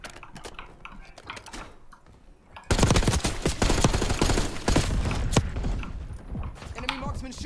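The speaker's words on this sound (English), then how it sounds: "Enemy marksman shooting." Enemy marksman fire in Call of Duty: Black Ops 6: after a quieter stretch with keyboard clatter, a sustained run of loud rapid gunshots breaks out, with a person speaking intermittently over it.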